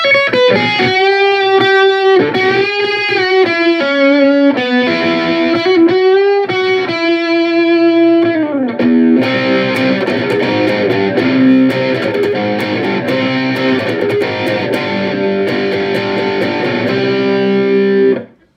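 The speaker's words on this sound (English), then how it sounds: "now we've got a lead guitar tone" A loud, overdriven electric guitar through a Roland CUBE 10GX amplifier plays a lead line, first in separate sustained notes and then a continuous, heavily distorted passage.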